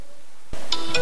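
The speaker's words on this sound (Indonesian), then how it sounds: "Aduh, Nanda nelpon lagi." A mobile phone ringtone for an incoming call starts abruptly halfway through, a bright electronic tone with short repeating chimes after near silence.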